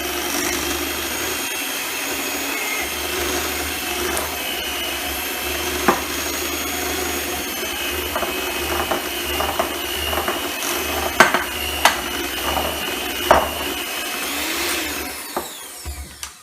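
Electric mixer whirring through cookie dough for cookie dough ice cream, a continuous close mechanical drone with rattling, ratchet-like clicks and occasional knocks from the beaters against the bowl, trailing off at the end, with no talk.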